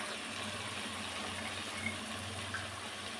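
Water poured into village-style goat mutton curry cooking in a pot, a steady, soft gushing splash that runs for the whole clip without a break.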